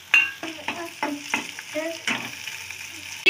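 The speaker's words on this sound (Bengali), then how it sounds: "এরপরে দিয়ে দিচ্ছি কুচনো টমেটো" Chopped tomatoes drop into a pan of frying onion, garlic and ginger, giving a moderate sizzle with repeated stirring and scraping strokes in an uneven rhythm, close up and with no talk.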